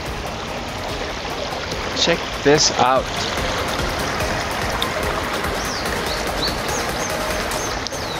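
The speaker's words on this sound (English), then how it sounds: "So we're at the river." A river flowing near a traditional street market area in Seoul, a steady broad rush of moving water throughout, with people speaking briefly over it and a few bird calls.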